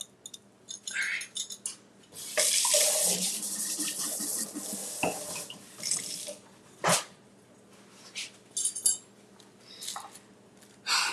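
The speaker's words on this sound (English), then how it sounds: "I'll just rinse it off" Kitchen tap water rinsing a utensil, a close hissing rush of running water for a few seconds followed by scattered clinks, splashes and handling noises.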